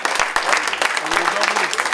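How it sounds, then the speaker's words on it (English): Loud, continuous clapping from a charity ball audience in a hall, a brief dense burst with voices faintly mixed in. "applause for that."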